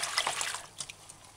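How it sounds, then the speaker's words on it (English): Vegetables and seasonings are washed in a bowl of water with a few drops of distilled white vinegar, producing soft trickling and splashing that fades to gentle drips, close and alone. "wash vegetable seasonings clean"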